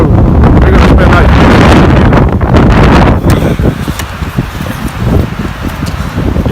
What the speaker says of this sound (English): I wouldn't say snowstorm, but windstorm for sure.